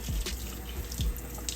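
Tap water runs steadily into a sink while sea moss is rinsed under it, a close, continuous splashing stream with a few brief louder gushes and no talking.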